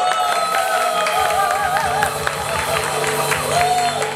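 Crowd cheering and calling out as swimmers are introduced before entering the water, a continuous excited roar with whoops and a rising call near the end, steady throughout.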